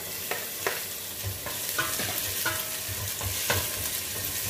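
Garlic is added to softened sautéed onions in a frying pan, giving a continuous close sizzle with repeated light scraping and stirring taps throughout.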